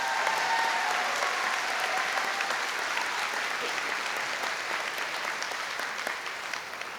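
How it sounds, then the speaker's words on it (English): A large audience at an eighth-grade promotion ceremony applauds the band and its director, dense sustained clapping that stays loud and even throughout, only easing slightly toward the end. "I think we deserve or should give a round of applause to Mr. Brian Stahl and the band"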